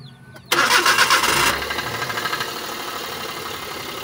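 A Suzuki car engine starting: a brief quiet lead-in, then a sharp crank and catch into a loud rev that settles to a steady idle, close up.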